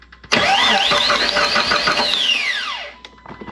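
A car engine fitted with a new spark plug cranks on the starter for about two and a half seconds, a loud whirring whine with rapid pulsing that sweeps down and cuts off, followed by faint clicks.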